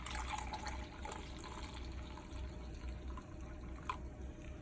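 Liquid poured from a can into a measure, about 13.5 ounces, for a dairy-free crème brûlée: a faint, steady trickle running for several seconds in a quiet kitchen.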